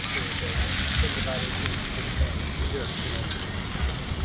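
Asparagus, sausages and steak sizzle over a campsite cooking fire at a Florida beach park, a continuous close crackle and spatter with a low rumble underneath, holding steady throughout.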